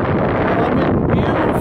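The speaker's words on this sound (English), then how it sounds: "The river is awfully windy." Strong wind by a river in Salzburg, Austria, roars steadily into the microphone as a loud, close, unbroken rumble with no voices.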